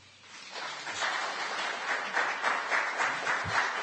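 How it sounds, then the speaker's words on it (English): Audience applause fills a council transportation board meeting room, steady clapping from many members of the public that swells and holds for several seconds. "I'm going to ask that members of the public don't applaud every statement from this point on"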